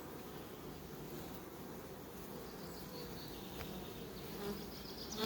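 Honeybees humming steadily around an old, worn beehive, a dense buzzing drone close by with light wind noise, no talking.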